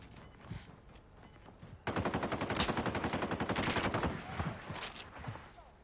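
Rapid automatic gunfire in Call of Duty on the Alcatraz map, a sustained burst of several seconds preceded and followed by scattered single shots, fairly close and sharp.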